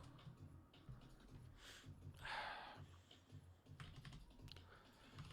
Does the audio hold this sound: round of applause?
no